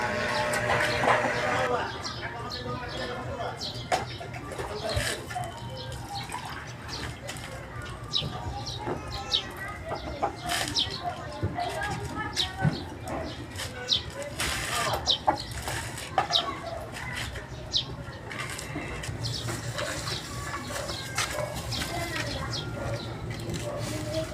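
Chickens cluck and murmur throughout, close by, with occasional sharper squawks and bird calls over a constant busy background.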